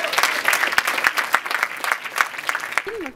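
A festival audience at the 2014 Urban Film Festival awards claps loudly and close by, with sharp individual claps standing out of the dense applause. A voice rises briefly at the very end.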